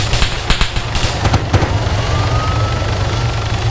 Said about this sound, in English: Oh, shit, they're shooting at us.